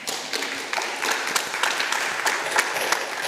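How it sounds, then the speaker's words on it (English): An audience at a women's congress session in Victoria in 2025 claps steadily for a few seconds, a close, dense ripple of applause with little talk. "And a special another round of applause for Lynn because she's just been amazing."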